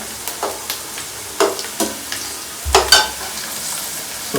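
Onions frying in oil in a pan for Telangana-style fish curry, with several bursts of stirring and scraping standing out from a low steady sizzle, heard alone with no talking.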